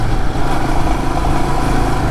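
Royal Enfield Himalayan BS6 2020 motorcycle engine ridden hard on an Indian road with knuckle guards fitted, a loud continuous close engine roar with wind noise and no pauses.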